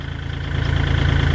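A Kubota L4018SP 40-horsepower tractor engine revs at around 2,000 to 2,500 rpm, a steady, close, pulsing diesel drone that swells slightly louder partway through.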